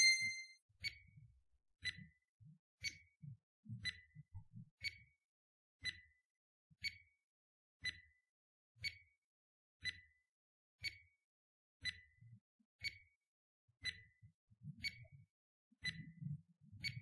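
A countdown timer sound effect ticks out a run of about seventeen evenly spaced bright chimes, roughly one per second, each answered by a faint low knock, with silence in between and nothing spoken.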